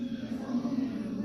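A voice imitates a quiet car engine with a low, steady hum held close and soft for a moment.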